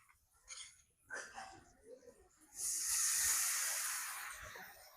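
Water poured into a hot pan of ground spice paste of dried chilli, garlic, onion, cumin and ginger for a prawn bhuna, bursting into a loud close hiss that slowly eases, after a few quieter kitchen noises.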